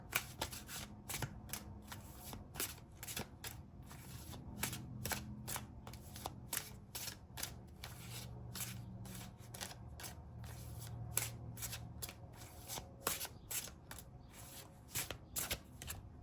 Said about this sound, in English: Let's draw another card.